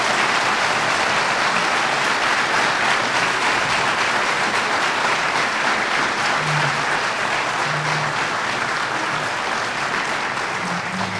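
Sustained applause from a banquet crowd at the Tampa Fire Rescue awards, given for the Firefighter of the Year, with dense, even clapping that fills the room without letup.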